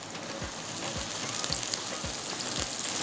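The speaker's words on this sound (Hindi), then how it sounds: "प्याज हमारा हल्का सा इसको करेंगे फ्राई" Chopped onion frying lightly in a pan as the base for a white sauce, giving a steady close sizzle with soft periodic stirring scrapes and no talking.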